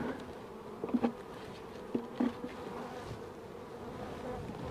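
Honeybees hum steadily at a hive during divider-board placement, a close, continuous low buzz with a few individual bees droning louder as they pass near.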